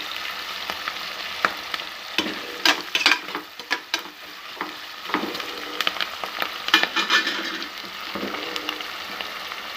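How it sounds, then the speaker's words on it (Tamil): Onions sautéing in a pan for a tomato rice dish, a steady close sizzle with bursts of scraping and stirring clatter throughout, no talking. "வெங்காயம் நல்லா வதங்கிருச்சு"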